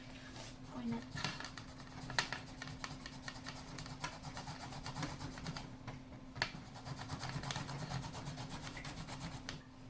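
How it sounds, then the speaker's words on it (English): A tangerine is zested on a grater, giving quiet, close, rhythmic rasping strokes that repeat steadily throughout. "I'm going to get the zest from a tangerine"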